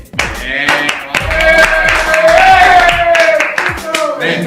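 Hands clap in a quick, uneven burst of loud sharp slaps, several people applauding close by while voices call out and laugh over them.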